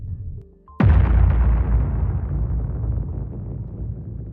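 A nuclear bomb detonates in one huge, sudden blast that erupts after a brief lull and rolls on as a long, deep rumble, slowly fading over several seconds.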